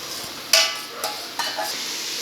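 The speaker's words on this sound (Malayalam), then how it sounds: "ഇനി അടുത്തതായി നമ്മൾ കനം കുറച്ച് നീളത്തിൽ അരിഞ്ഞു വെച്ചേക്കുന്ന 8 സവോള ചേർക്കുകയാണ്." Thinly sliced onions, eight of them, added to a hot pan for Kerala chicken curry sizzle steadily, with a few sharper bursts and stirring scrapes close by.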